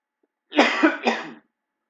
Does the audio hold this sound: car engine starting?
no